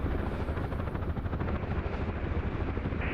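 A UH-1H Huey helicopter in the combat flight game DCS World, its steady rotor chop and turbine roar filling the clip loudly and continuously with no voices.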